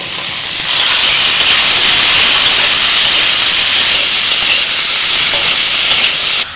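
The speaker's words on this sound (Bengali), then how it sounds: "সবজিগুলো ভাজা হয়ে গেছে" Potato, carrot, green beans and cauliflower fry in a pan with salt and turmeric, giving a steady, loud, close sizzling hiss that holds evenly throughout with no voices.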